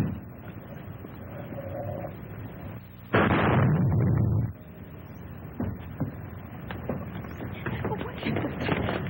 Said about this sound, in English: The motor exploded. A spark must have lit the gas from the leak.